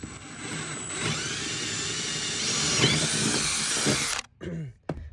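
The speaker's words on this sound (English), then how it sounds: "now I'm drilling a lot of holes in the boat here" Power drill boring a series of holes into a boat deck during deck core replacement, a steady loud whine with rising pitch sweeps, ending in brief stops and restarts near the close.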